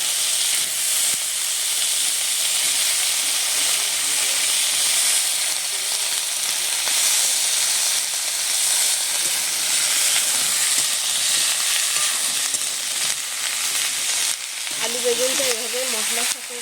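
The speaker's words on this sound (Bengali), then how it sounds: "এবারে দিয়ে দিচ্ছি কেটে রাখা আলু আর বেগুন" Thinly sliced potatoes and eggplant sizzle loudly and continuously in hot oil in a pan, a dense, steady frying hiss that fills the whole stretch, with a brief voice near the end.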